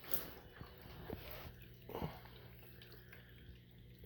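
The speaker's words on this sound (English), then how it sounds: "This is a petsafe water fountain." A PetSafe pet water fountain trickles faintly, its small waterfall running with a few drips and soft splashy knocks, quiet and close in an indoor room.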